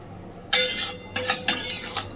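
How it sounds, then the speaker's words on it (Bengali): A metal lid is set onto a cooking pan of taro stolons on the stove, giving one clear clank followed by a few lighter metallic clinks as it settles. "গ্যাসের ফ্লেমটাকে এবার বাড়িয়ে দিয়ে এটাকে জাস্ট ঢাকা দিয়ে দেব।"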